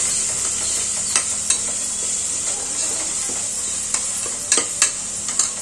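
A paste of onion, green chili and curry leaves frying in oil for a goat trotter curry, giving a loud, constant hissing sizzle with occasional sharp stirring clicks from a spoon against the pan.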